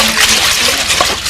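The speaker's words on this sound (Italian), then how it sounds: "Ci mettiamo un pochino d'acqua per inumidirli un pochino." Water poured over melon seeds to moisten them for dry-farmed sowing in Sardinia, a short steady splashing gush filling the moment, close and fairly loud, with no voices.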